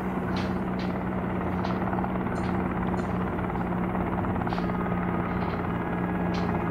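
Simulated helicopter engine and rotor in the Helicopter Simulator video game, a steady loud turbine drone with a rhythmic rotor thump running throughout.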